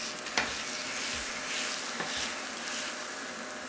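Squash and vegetables sizzling and caramelizing in a hot pan for a vegan Thai red curry, a steady bright frying hiss with a couple of soft stirring scrapes, fairly quiet and without talk.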